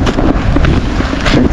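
Wind buffets across a river on the Daugava during bream fishing, a steady loud roar of gusts against the microphone with no speech.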